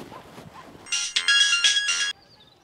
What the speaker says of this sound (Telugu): రాజన్నకు ఫోన్ చేస్తారు.